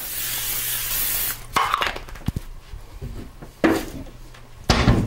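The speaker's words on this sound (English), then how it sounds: "I'm going to spray my pan." A hissing burst of cooking spray on a pan up close, followed by a few clinks and handling noises, then two more short sprays.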